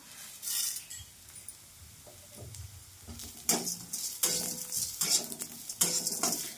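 Coriander seeds and dal dry-roasting in a pan, a spoon stirring and scraping through the dry grains in uneven bursts, with rattling clinks against the metal, loudening in the second half.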